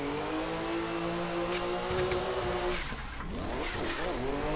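A sim racing car engine revs during a clutch kick, a sustained loud whine that drops and surges again in pitch, with faint tire squeal and no talk.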